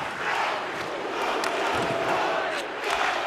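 A large arena crowd at an NHL 25 hockey game, a steady roar of jeering voices that swells and holds throughout, loud and close, with no clear speech on top.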